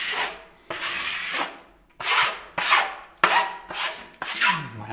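A tool repeatedly smooths and presses reinforcing mesh into ceiling filler on a hallway ceiling, giving close, rhythmic scraping rubs in about six strokes with brief gaps between them.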